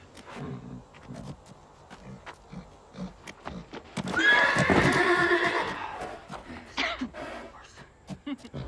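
A horse lets out a loud, drawn-out whinny up close amid clopping hooves and shuffling movement.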